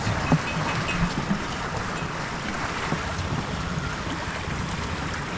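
A 20-foot sailing boat runs with two reefs in the main and a reefed genoa at about 6.5 knots on a North Sea crossing, giving steady broadband rush of wind and water with occasional light knocks, no talking.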